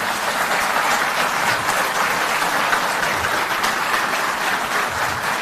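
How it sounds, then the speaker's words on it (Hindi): Sustained audience applause at a Delhi government event for Jal Board employees, a dense, steady clapping of a large crowd that stays loud throughout with no talk over it. "तालियां बजती रहें।"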